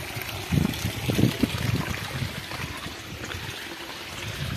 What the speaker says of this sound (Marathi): बघा इथं तुम्हाला दाखवतो, पाणी चालू केलंय मी. हे पाणी चालू केलेलं आहे.